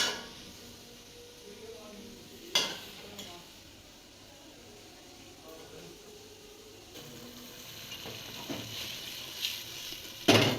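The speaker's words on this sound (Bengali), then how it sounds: "মাছগুলো ভালো করে কষিয়ে নেবে" Fish cooked with spices and cauliflower is stirred in a pan, with metal utensil clinks and scrapes over a low sizzle and a few sharper knocks near the start and end.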